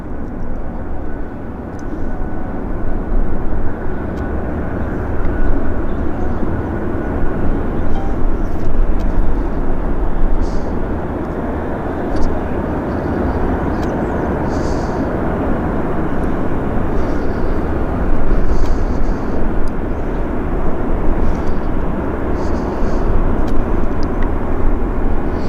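Jet airliners at Vancouver International Airport make a continuous engine roar with steady broadband rumble and a few faint clicks, sustained throughout at moderate distance, with no talk.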